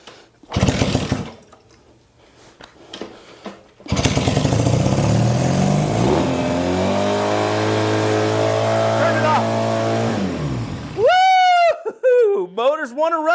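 A Honda CB160 Sport motorcycle engine, newly revived, bursts into life and climbs to a high, sustained rev with a steady harmonic drone. Brief sputters come before it, and a wavering whine and clatter follow as it settles.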